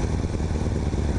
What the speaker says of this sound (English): Tää niinku paukkuu tyhjäkäynnillä, tiiäks semmosia.